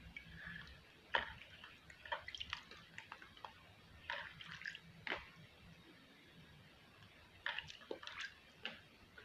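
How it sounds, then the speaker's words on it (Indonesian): Water splashing and dripping as lips are rinsed by hand, with quiet, close, irregular wet squishes and drips scattered through the stretch and no talking. "Langsung aja kita cuci pakai air"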